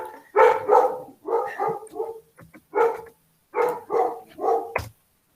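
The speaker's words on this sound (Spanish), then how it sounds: "no sé si escuchan a mis perros ladrar, mis perras" Several dogs bark in short, repeated bursts, fairly close and loud, with gaps of quiet between the volleys; no one talks over them.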